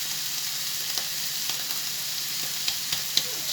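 Chicken pieces sizzling in a hot pan with thyme, a steady broadband frying hiss with a few small pops and crackles, close and even throughout, no talking.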